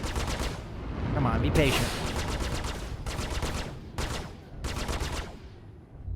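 Spaceship guns in Star Citizen fire in rapid bursts of repeated shots, loud and close, separated by short pauses, with a voice speaking over the gunfire.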